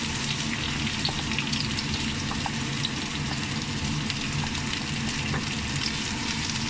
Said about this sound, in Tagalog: nagisa na si ate ng bawang, saka sibuyas